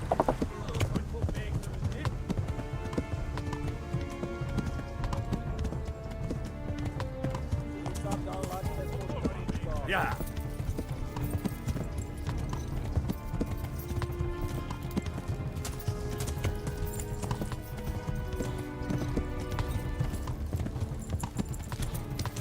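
A horse trots with continuous clip-clopping hooves in the medieval game Kingdom Come: Deliverance, the steady beat running the whole time beneath in-game music, with someone speaking over it.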